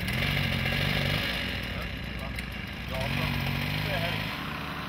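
A moped engine fitted with a new spark plug and V-belt runs close by, a buzzing drone that rises and falls in pitch in two revving surges, with people talking over it.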